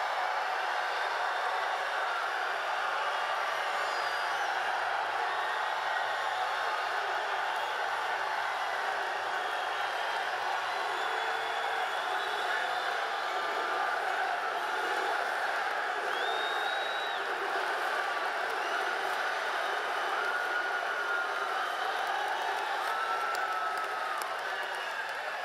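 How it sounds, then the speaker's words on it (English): A large campaign rally crowd in Fort Myers, Florida keeps up a sustained, distant roar of cheering and clapping, a dense, even wash of noise that fills the whole stretch without letting up. "Oh boy, what a crowd, what a crowd."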